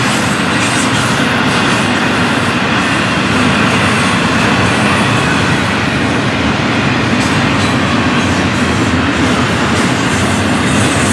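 A loud intermodal freight train of stacked and double-stacked container cars rumbles steadily past nearby, a dense roar of wheels and rattling cars with faint squeals, continuous for the whole stretch.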